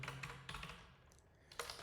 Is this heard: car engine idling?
no